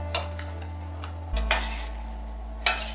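Macaroni and cheese is stirred in a pot, with a spoon scraping and tapping the sides a few times over a low background hum.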